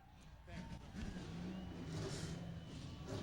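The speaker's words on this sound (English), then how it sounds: "Gentlemen, start your engines." Late model race car engines at Mesa Marin Raceway rumble and rev together at the start of a 1998 main event, under crowd noise and indistinct voices.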